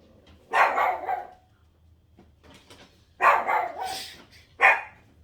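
A small dog barks sharply at close range, three loud bursts of barking separated by short quiet gaps indoors.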